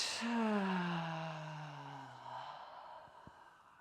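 A slow, audible exhale during a guided breathing exercise, with a soft sighing, gasp-like breath lasting a few seconds and tapering off, fairly close and alone without speech.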